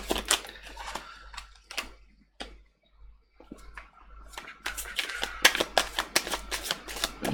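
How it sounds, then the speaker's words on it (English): Soft papery riffles and flicks of tarot cards being shuffled up close, in irregular bursts with brief pauses between them. "I always shuffle again while I'm doing the reading."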